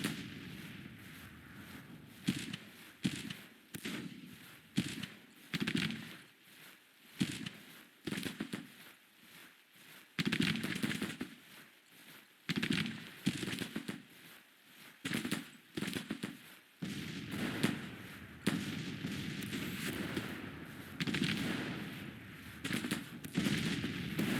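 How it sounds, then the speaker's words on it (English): Artillery and gunfire in the Grand Tactician: The Civil War video game, a long stretch of booming cannon blasts and crackling volleys in irregular bursts, some heavy and close, with brief lulls between. "now we can get that artillery firing actually into them"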